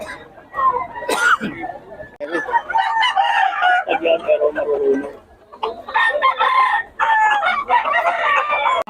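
Hens cluck and a rooster crows repeatedly nearby, with people talking in Filipino over the birds.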